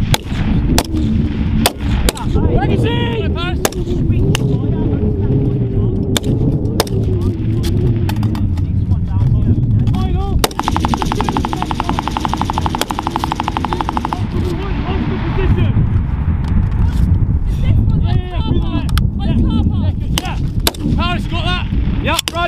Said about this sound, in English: Keep laying down fire!